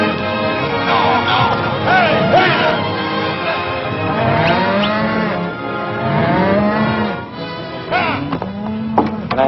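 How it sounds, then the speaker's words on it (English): Cattle on a ranch in an old Western film low several times in long, drawn-out moos with rising and falling pitch, fairly close and loud, over a continuous background din of the herd. "There's your cattle."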